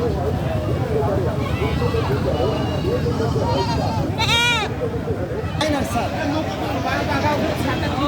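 Goat bleating at a cattle and goat market in Pabna, one wavering cry rising briefly above dense crowd chatter and continuous talk nearby.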